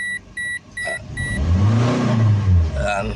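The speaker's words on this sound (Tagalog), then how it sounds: "narinig nyo, naging maingay yung makina. Rough idling na siya." Toyota HiAce van engine, 29k on the odometer, running at a rough, noisy idle with a fault around the oil sending unit, a low uneven rumble swelling after a series of warning beeps at the start.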